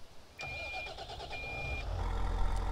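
A vehicle engine starting in Farming Simulator 15: a quiet click and whirring crank with a tonal whine, then the engine catches and settles into a low rumbling idle, soft and without talk.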